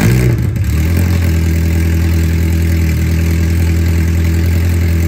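K20a-swapped MR2 Spyder engine running with no exhaust fitted, starting with a brief blip then settling into a loud, raw, steady idle drone, close up in a garage.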